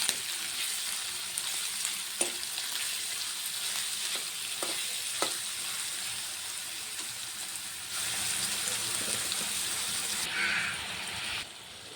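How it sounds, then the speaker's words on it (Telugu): Onions and green chilies sizzling steadily in a pan while being stirred, a soft continuous frying hiss with occasional scraping taps, fairly quiet and close. "ఒక కప్పు ఆనియన్స్, 3-4 పచ్చిమిర్చి, ఒకసారి బాగా కలుపుకుందాం."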